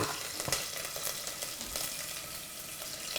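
Green chillies fry in a pan for a home-style dish, giving a steady, close sizzle with occasional stirring scrapes and soft bubbling throughout, no talking.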